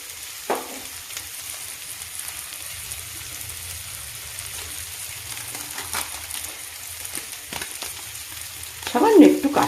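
Potato and pumpkin curry with spices fries in a pan and is stirred. A soft steady sizzle is broken by occasional scraping strokes, with a louder stir near the end.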